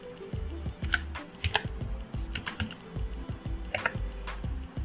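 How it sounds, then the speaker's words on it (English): Computer keyboard keys clatter in quick irregular bursts while a command is entered in an Ubuntu 20.04 terminal, close and fairly soft, with steady taps and short pauses and no talking. "So I type that name of my video"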